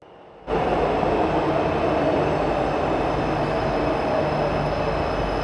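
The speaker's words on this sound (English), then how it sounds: "now I can safely enter the metro." Metro train heard from inside a car or platform, a steady loud rumble and rail roar that starts abruptly after a short quiet moment and continues evenly throughout.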